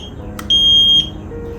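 An EMP fingerprint digital safe's electronic keypad lock gives one clear, high electronic beep lasting about half a second, preceded by a soft click, over quiet background hiss.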